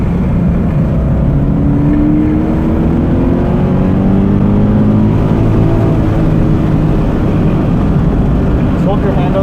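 A Subaru BRZ laps Cayuga race track, its engine droning loud and steady from inside the car, with rising and falling pitch as it works through the gears and heavy wind rumble throughout.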